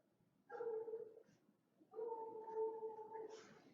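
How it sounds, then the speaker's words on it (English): Wolves howl outdoors in two long sustained tones with steady pitch, the second howl longer, heard at a moderate distance with faint background noise. "The wolves are howling outside."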